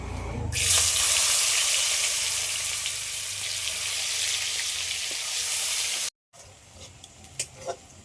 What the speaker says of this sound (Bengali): এই মাছ ভাজার তেলের মধ্যে দিয়ে দেবো পেঁয়াজ কুচি